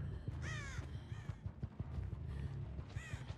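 A crow caws several times in the Dead by Daylight video game, repeated hoarse calls standing out clearly over a steady low game ambience with soft thumps.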